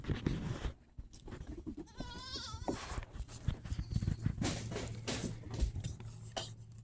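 Little goats huddled together on a farm give a quavering bleat among soft shuffling and clinking noises, heard fairly faintly at close range.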